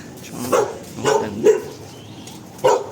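Several dogs bark in short separate bursts, four distinct barks spread over a few seconds at moderate distance, with faint background noise and no clear talk.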